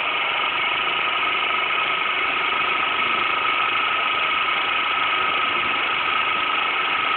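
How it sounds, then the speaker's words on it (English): A homemade Newman motor replica with an iron shaft and a neon bulb runs with a steady, even electrical whir and buzz, loud and unbroken throughout. "the motor will go faster"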